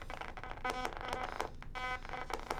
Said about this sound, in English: let's trigger an envelope on the second oscillator